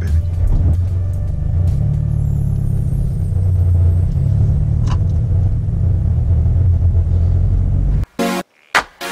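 Toyota FT-86 fitted with SpeedFactory Race UEL headers, its exhaust giving a loud, steady, deep rumble at idle that runs unbroken for about eight seconds before cutting off abruptly.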